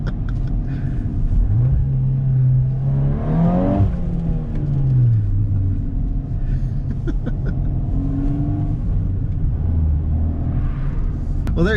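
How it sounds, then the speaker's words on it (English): A 2022 Volkswagen Golf R accelerates hard along a back road, its engine note rising and falling through gear changes with steady loud rumble and tire roar throughout, no talking. "Another Golf R just shredding behind me."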